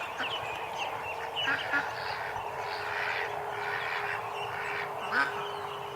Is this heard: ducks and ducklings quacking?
yes